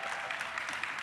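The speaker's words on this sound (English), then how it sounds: "Just by a round of applause, who thinks it's Matt?" An audience at a business conference gathering claps steadily throughout as a show-of-hands style vote, a dense continuous applause that fills the room without pauses.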